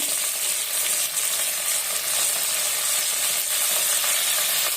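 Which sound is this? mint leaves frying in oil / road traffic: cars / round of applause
mint leaves frying in oil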